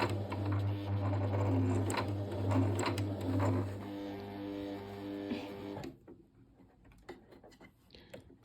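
A sewing machine stitches fabric at a steady fast whir for about six seconds, then stops. Faint handling noises follow.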